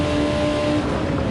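Steady onboard engine drone of a Group 2 race car lapping the Circuit de Catalunya in Barcelona in a racing game, a sustained near hum with a faint whine, briefly heard alone.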